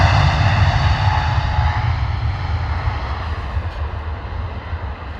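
A jet aircraft at frosty London Luton Airport gives a loud, steady engine roar with deep rumble and tonal whine, slowly fading over several seconds, heard from outside on a cold morning.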